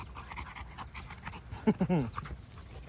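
A dog pants in quick, rhythmic bursts of breath, close by, with some faint background noise around it.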